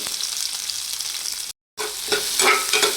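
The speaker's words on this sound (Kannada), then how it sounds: "ಎಲ್ಲದನ್ನೂ ಚೆನ್ನಾಗಿ ಹುರ್ಕೋಬೇಕು" Butter and oil sizzling in a pan with spices, ginger, garlic and onion, a steady frying hiss with stirring scrapes, briefly cut to silence midway before the sizzle returns louder with clatter.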